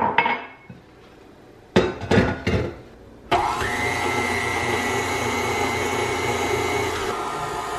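A stand mixer in a home kitchen. A few sharp knocks and clatters come first, then the motor starts and runs with a loud, steady whir and whine before winding down near the end.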